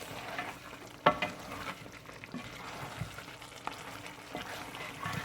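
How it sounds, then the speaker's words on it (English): Spinach being stirred into a Cameroonian sese yam stew in a pot, with a low bubbling sizzle under soft scraping and a few sharp clinks of the spoon against the pot's side. "let's just stir it around so everything gets incorporated"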